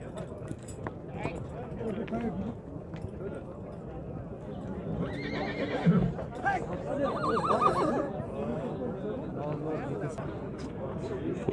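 A mare at a horse market in Kyrgyzstan lets out clear neighs and whinnies, with hoof clip-clops and bustling crowd chatter around her and people talking nearby.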